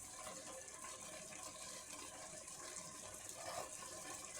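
Water runs steadily into an emptied can of crushed tomatoes to rinse it, a continuous close splashing fill with no talk over it.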